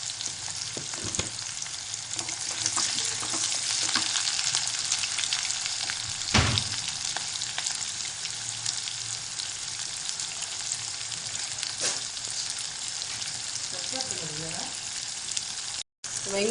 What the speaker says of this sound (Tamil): வெங்காயம் வெள்ளை பூண்டுலாம் வதங்கினோன்னா